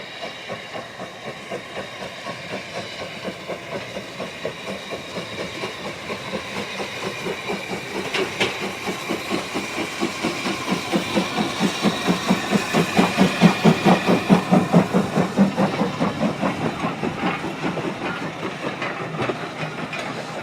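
A 1938-built Hudswell-Clarke 0-6-0 tank steam locomotive, Nunlow, pulls away from Keighley with a steady, rhythmic chuffing beat that grows louder toward the middle and then eases slightly, with no voices.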